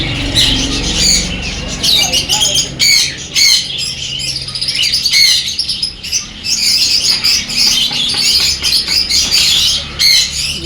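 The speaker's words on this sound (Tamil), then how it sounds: "இதுதான் அந்த ஹோமர் புறா." Homing pigeons squawk and call repeatedly at close range, loud and busy, with bursts of wing flapping and other birds chirping around them at an exotic pet shop in Coimbatore.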